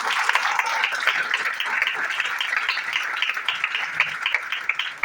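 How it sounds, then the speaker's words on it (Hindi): Audience applause at a business opportunity talk, a continuous dense clapping from a crowd at moderate loudness, sustained throughout without speech. "मैं चाहूंगा एक बार जोरदार ताली होना चाहिए दिग्विजय पाठक को।"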